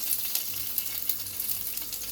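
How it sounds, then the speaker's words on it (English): Ginger sizzling and crackling steadily in hot oil in a frying pan, with small irregular pops over a continuous frying hiss. "To the frying pan, I've added oil. So now I'm going to add my ginger"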